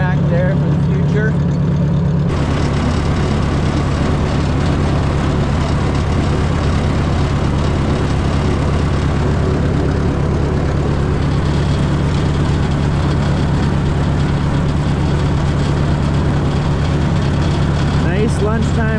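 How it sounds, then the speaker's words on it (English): Ford 601 series tractor with a 6-volt system running on a freezing snowy day, a loud steady low engine drone with a constant throbbing hum, close up and continuous for the whole stretch. "Nice lunchtime for a tractor ride, that's for sure."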